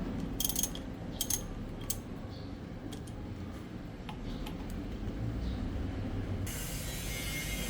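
A ratchet wrench fitted with an adapter works on bolts of a Bristol Venturi 500 motorcycle, giving several sharp bursts of rapid clicking early on and then fainter ticks over a steady background hum, close up with no speech.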